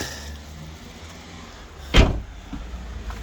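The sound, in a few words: opening the door of a BMW 316i E46 car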